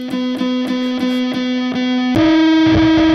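A ukulele played through a Marshall amp with a Big Muff fuzz pedal gives a thick, buzzing distorted tone, a run of evenly picked notes followed by a sustained higher chord that rings loud to the end.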